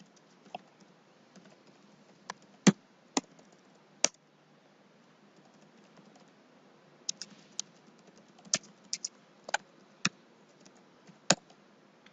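A somewhat faulty computer keyboard clicks in scattered bursts of typing, sharp individual keystrokes with pauses between, close and fairly quiet, no voices.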